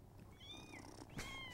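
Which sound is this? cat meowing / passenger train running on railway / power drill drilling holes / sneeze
cat meowing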